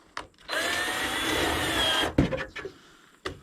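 A power tool fitted with a deep socket spins out a bolt on a Maytag dryer being torn down outdoors, a steady whirring run of about one and a half seconds followed by a few metallic clunks.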